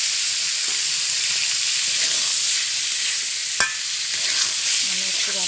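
Chicken meat hits hot spiced oil in a pan, giving a steady, loud broadband sizzle with stirring scrapes and one sharp clack midway, no voices.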